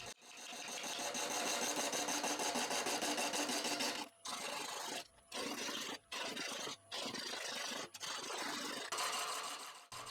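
A big wood lathe turns a piece of horse chestnut and resin at low speed, below 400 RPM, with a gouge cutting in a continuous rasping scrape broken by several short pauses, close and loud.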